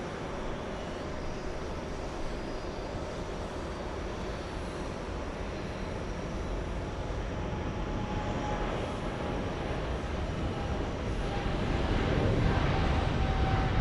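A Qatar Airways Boeing 777 on its takeoff roll toward Doha gives a broad, steady engine roar heard from a distance, swelling slightly louder toward the end.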